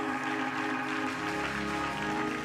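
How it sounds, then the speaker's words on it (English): Church congregation applauding during a sermon, a dense, steady wash of clapping with a sustained tonal ring underneath, loud and continuous throughout. "Are y'all gonna clap for them?"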